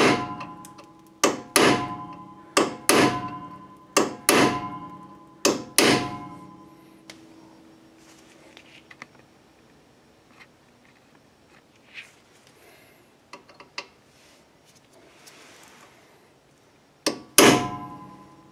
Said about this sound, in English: take a punch and a hammer and drive that into that